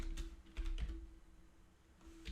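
Keys tapped on a computer keyboard while working through 6502 BASIC graphics code, a few clustered clicks at the start and middle and again near the end, fairly quiet with room hum between.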